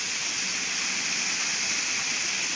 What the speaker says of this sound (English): You can hear the water now.